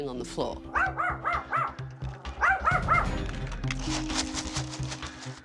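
Several quick yappy dog barks come in two clusters, followed by a rougher, noisier stretch; they are mixed with other sounds.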